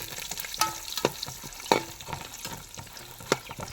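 Cinnamon, cloves, cardamom, bay leaf, almonds and cashews frying in hot oil for a chicken dum biryani, a soft continuous sizzle broken by sharp spatula knocks and scrapes against the pan.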